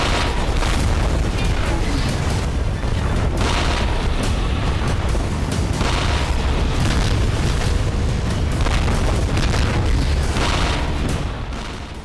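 Huge non-nuclear bombs detonating, a continuous roar of deep booming blasts one after another, loud and dense, rolling on without pause until it fades slightly at the end.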